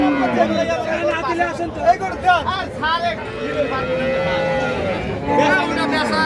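Cows and heifers moo repeatedly at a busy cattle market, several drawn-out calls rising over a steady crowd murmur, with people chattering throughout.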